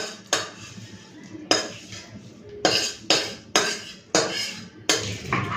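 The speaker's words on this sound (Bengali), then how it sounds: "তো একবার বেটে নিয়েছি, আরও একবার বেটে নিতে হবে, তাহলে পুরোপুরি প্লেন হয়ে যাবে" Crisp fried prawn heads are ground on a stone grinding slab, making about seven sharp, close scraping strokes at an uneven rhythm, each one fading quickly.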